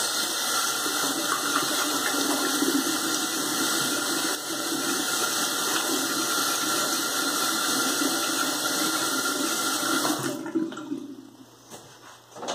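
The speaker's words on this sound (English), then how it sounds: "Let me wash my hands." Water runs steadily from a bathroom tap during handwashing, a continuous hiss heard up close that carries on for about ten seconds and then cuts off near the end.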